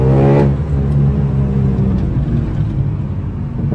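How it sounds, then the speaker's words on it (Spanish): A car engine running just after a push-start on a flat battery, revving briefly and then settling into a loud, close, continuous rumble as the car pulls away. "Dejo el embrague ahí y él ya prende."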